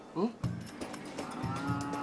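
A cow lets out a short rising moo, followed by a deeper, longer bellow nearby, with a faint voice and farmyard background.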